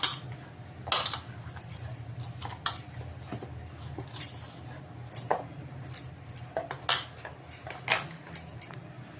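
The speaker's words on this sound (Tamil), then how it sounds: "இப்போ இதை ஃபுல்லாக நம்ம மிக்ஸ் பண்ணிக்கலாம் மாவில்." Chapati dough being worked by hand with colostrum powder mixed in gives scattered soft clicks and taps over a steady low rumble, with no talking.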